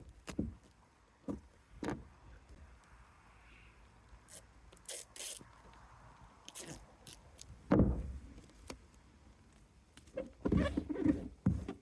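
Rain patters on a small boat, a soft irregular tapping with scattered louder knocks and thumps on the hull or cover, fairly close.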